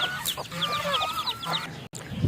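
A hen with her chicks clucks repeatedly in short, soft bursts close by, with faint chirps mixed in and a brief gap near the end.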